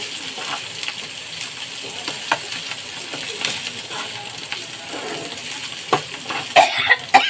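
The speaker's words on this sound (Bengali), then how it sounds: "এবার আস্তে আস্তে করে এটাকে নেড়ে মশলাটাকে পুরো ভাজা ভাজা করবো" Steady hiss of spice paste frying in a pan, with scattered scraping clicks as it is stirred.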